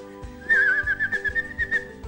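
A child whistles in imitation of a sparrow, a bright, wavering, chirpy tone held across a couple of seconds over soft rhythmic background music.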